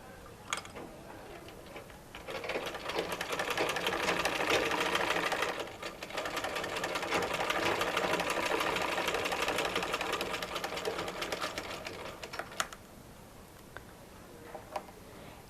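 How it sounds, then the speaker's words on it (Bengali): A sewing machine stitches a blouse sleeve hem in a fast, even rattle of needle strokes that runs for several seconds, briefly dips, resumes, then stops, followed by a few light handling clicks. "আমি এই সেলাইটা মেশিনের মাধ্যমেই করব"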